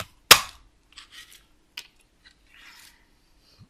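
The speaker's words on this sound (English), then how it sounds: "And then use your punch." A craft paper punch snaps sharply through paper once, loud and close, followed by faint rustling and small clicks of paper being handled.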